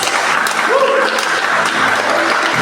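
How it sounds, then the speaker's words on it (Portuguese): Church congregation applauding during a sermon, a steady dense wash of clapping throughout with some voices mixed in. "Pode aplaudir Jesus"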